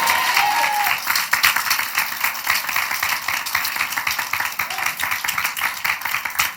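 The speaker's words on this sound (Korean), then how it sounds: "그렇게 하실 분들 우리 하나님께 박수로 영광 돌리겠습니다." A church congregation claps during a Sunday morning worship service, a full, steady round of applause from many hands that carries on evenly without letting up.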